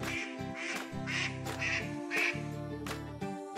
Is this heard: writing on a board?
no